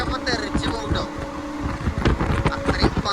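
Wind rushes over the microphone on a moving train headed toward Pattambi in Palakkad, a loud, gusty roar that persists throughout, mixed with a faint steady hum and some voices.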